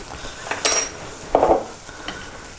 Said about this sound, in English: Give those a good old stir and let that simmer for about 20 minutes.